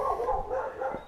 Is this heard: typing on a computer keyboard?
no